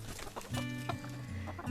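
Chickens cluck and murmur nearby in short repeated calls, with a quiet farmyard background.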